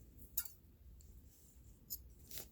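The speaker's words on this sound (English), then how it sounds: "So now you're just going to cut your thread," Scissors snip through crochet thread with a few faint, crisp clicks spaced apart in an otherwise very quiet room.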